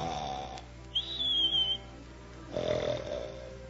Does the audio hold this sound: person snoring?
yes